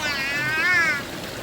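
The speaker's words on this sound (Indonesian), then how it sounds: "Wah, ada kucing." A single drawn-out cat meow, rising and falling over about a second, heard fairly close against quiet background noise.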